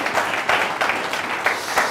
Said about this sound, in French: Je vous demande de l'applaudir très très très fort